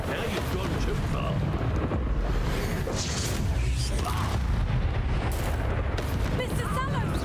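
Rumbling blasts from a Confringo fire spell in Hogwarts Legacy roll on amid constant noisy battle ambience, with voices talking over the din.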